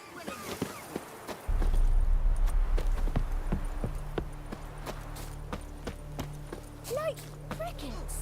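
Horse hooves clip-clop in a steady walking rhythm in The Witcher III: Wild Hunt over a low rumbling background, with a brief voice and a faint whinny-like sound near the end.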